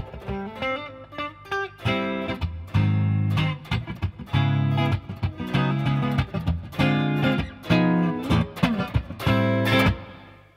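An electric guitar split through two amps at once by a Twin Stomp AB-Y pedal gives a thick, wide, loud tone as chords ring out in steady strummed bursts for about ten seconds, alone without talk.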